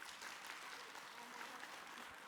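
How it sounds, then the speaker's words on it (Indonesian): An audience at an Islamic study-group talk show claps, a faint, continuous patter of applause from a crowd heard at a low level. "Tepuk tangan dong."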